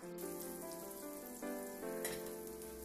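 Butter melts and sizzles in a pan for a few seconds, a faint, soft crackling fry with tiny pops over a low steady hiss, heard close and quiet.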